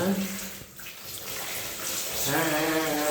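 Warm water splashing and pouring while a child's hair is washed, a steady wash of running water that grows louder and fuller toward the end.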